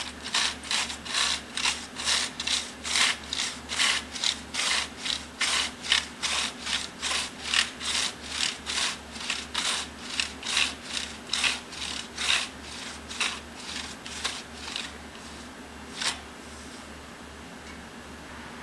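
A 5.5 foot crosscut saw cuts through a log in rhythmic back-and-forth strokes, each pull a rasping scrape, about two per second close by, slowing and stopping near the end.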